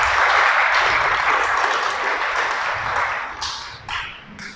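Congregation applause fills a church sermon, a loud, dense burst of many clapping hands that gradually tapers off, with a few sharp, scattered claps at the close.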